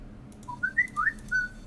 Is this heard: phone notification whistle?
yes